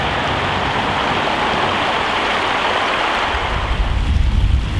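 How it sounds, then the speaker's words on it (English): Bowman's Creek flows in a dense, steady rush of water, loud and close, like continuous rapids, with a deeper rumble building near the end. "Bowman's Creek."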